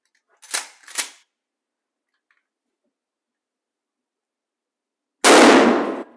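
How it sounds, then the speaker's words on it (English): A Mossberg Shockwave shotgun fires 20 gauge shells at balloons on a shooting range. Two sharp blasts come close together early, then silence, then a final loud, close blast that rings out and fades, with no talking. "Now we're going to move on to the Mossberg Shockwave and shoot 20 gauge now."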